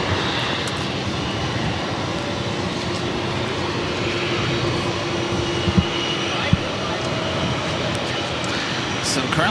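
A JetBlue Embraer E190 jet at Boston Logan airport produces a loud, steady engine roar with broad rumbling noise that holds throughout, with a couple of brief knocks and faint voices in the background.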